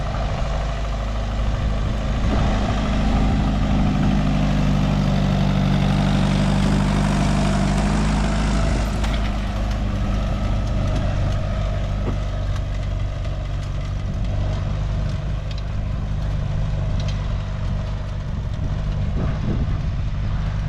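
A heavy tractor engine rumbles steadily at close range, a low idling drone that holds through the whole stretch with no talking.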